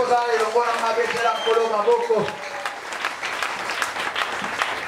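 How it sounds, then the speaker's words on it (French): Church congregation applauding and cheering for the Lord during a French-language sermon, a loud burst of clapping mixed with raised voices that tapers into steadier, lighter applause. "Si tu es avec moi, tu peux acclamer le Seigneur."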